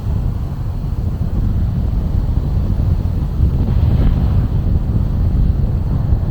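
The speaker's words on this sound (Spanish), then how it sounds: "Es conocido por sus vientos fuertes." Strong gusting wind buffets the microphone on the Portuguese coast, a loud, continuous low roar with no talking.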